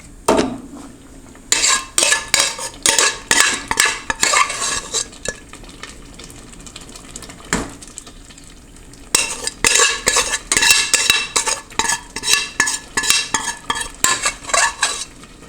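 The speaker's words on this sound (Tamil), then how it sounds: "இந்த கடக்கடக்குன்னு சவுண்டு வருது பாருங்கள்." Metal utensil clattering against a pot while a brinjal and lentil curry is stirred, loud repeated scraping and knocking bursts in two long runs with a short gap between, over a faint sizzle, no voices.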